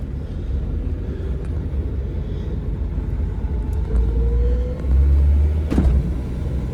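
A Honda Integra with no power steering idles and rumbles as it is driven slowly and turned around, a low steady engine drone that swells briefly near the end.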